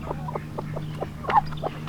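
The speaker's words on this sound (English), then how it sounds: "So you got a duck and a chicken in there?" Chickens and a duck in a coop give a steady run of short, soft clucks, about eight in under two seconds, close by with a low constant hum underneath.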